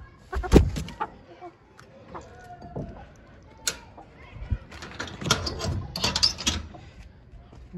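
Egg-laying hens cluck and squawk in scattered bursts on a poultry farm at evening feeding time, with someone talking between and over the calls.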